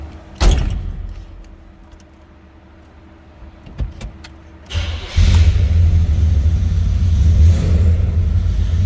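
A 1981 Chevrolet El Camino starts from cold: a door thump and some clicks, then the starter cranks briefly and the engine catches and settles into a loud steady idle, heard close by.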